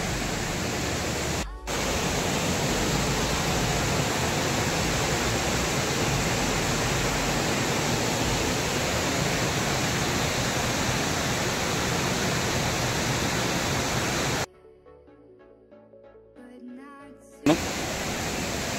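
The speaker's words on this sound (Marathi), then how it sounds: "मंदिर आणि ते सर्वात मोठा खाली धबधबा आहे." A large waterfall behind the Dhutpapeshwar temple at Rajapur roars as a steady, loud broadband rush of falling water that fills the scene, briefly dropping out near the end before resuming.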